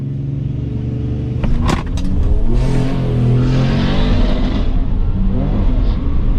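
Drag strip launch with cars including a Tesla Model S, a Buick Grand National and a big-tire Vega, engines roaring loud and close with tires spinning, a steady heavy rumble that surges and holds for several seconds.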